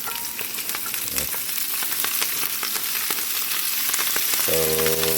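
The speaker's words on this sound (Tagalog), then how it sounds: "isasabay ko na rin tong cabbage dito. Prito rin natin." Cabbage sizzles and crackles loudly in a hot pan, steady frying close by, with a humming tone entering near the end.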